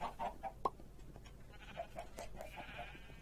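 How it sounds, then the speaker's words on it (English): Chickens on a Minecraft chicken farm give a run of short, faint clucks and squawks in quick succession, with one sharper cry, inside a video game. "They have a chicken farm."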